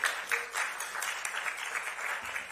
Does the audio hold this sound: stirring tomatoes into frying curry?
no